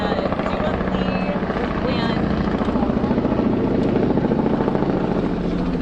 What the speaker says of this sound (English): You hear the news chopper above?